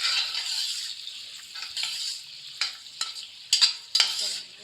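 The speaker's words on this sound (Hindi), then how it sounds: "जैसे घी गर्म होगा इसमें डालेंगे 2 अदद प्याज जो हमने स्लाइस करके रखे हुए थे" Two sliced onions fry in a cup of hot ghee for aloo mattar biryani, giving a bright, steady sizzle. Several sharper scraping bursts from stirring come near the end.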